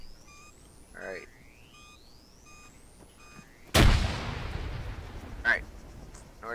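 A friendly grenade detonates after a frag-out warning: a sudden loud blast with a long rumbling decay, preceded by thin rising whistle-like tones and followed by a fainter second crack.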